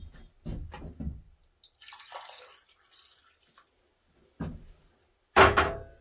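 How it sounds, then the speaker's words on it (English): Cowboy coffee poured carefully from a camp pot into an insulated cup outdoors in the woods, with soft intermittent trickles and liquid splashes separated by pauses, ending in a louder final pour. "you ever so carefully want to pour this in"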